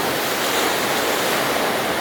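Steady, dense roar of ocean waves breaking along the rocky magma-formation coast at Black Point, Australia, a continuous broadband wash with wind, close and loud with no talking.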